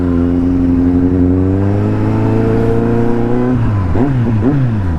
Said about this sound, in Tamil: சவுண்டே வித்தியாசமாக இருக்குங்க. டிபி கில்லர் போட்டேன்,